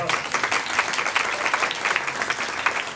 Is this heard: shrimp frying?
no